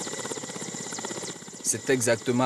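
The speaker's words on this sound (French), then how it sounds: "l'hélicoptère la transportant atterrit à l'aérodrome de la capitale du Ourodougou" A helicopter lands at the aerodrome in Séguéla, capital of Worodougou, its steady thrumming rotor and engine drone filling the scene while a narrator speaks over it.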